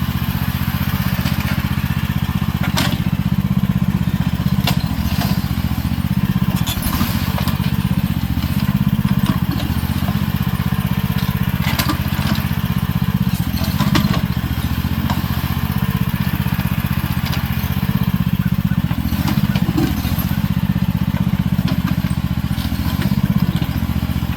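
Small handheld weed trimmer running steadily on a hillside, a continuous buzzing engine drone that holds level throughout with light clattering as it cuts.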